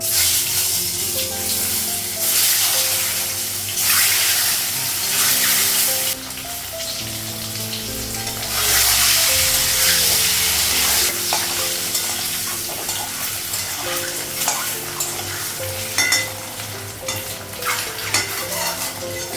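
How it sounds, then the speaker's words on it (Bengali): Sliced bitter gourd fries in a pan at home, with a steady sizzle and repeated scraping and clinking from a utensil stirring close by. "আমি করলাটা ভাজা করবো"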